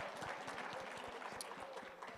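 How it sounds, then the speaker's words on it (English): Audience applause at a plenary session, a steady patter of many hands clapping, faint and distant in a large room, with no speech over it. "Yes, another round of applause."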